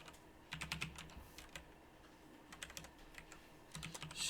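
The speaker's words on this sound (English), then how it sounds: "Noah, you should be typing this stuff in." Keys clatter on a computer keyboard in a classroom coding lesson, coming in quick bursts of several strokes with short pauses between, fairly faint and alone.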